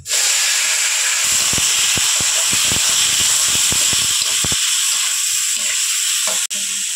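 Tomato hits hot oil seasoned with dried chillies and five-spice, giving a loud, close, hissing sizzle with quick crackles and stirring clicks, then a steady roar of frying.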